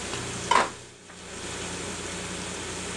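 Garlic, diced red onion and thinly sliced leek frying in a pan, with a sharp sizzle burst as they hit the hot pan, then a steady low hiss of frying, close and alone.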